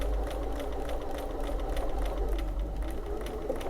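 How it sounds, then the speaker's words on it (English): A sewing machine stitching a buttonhole in reverse, running at a steady fast pace with a continuous close mechanical whir and rapid needle clatter, no talk. "now it's going to sew backwards"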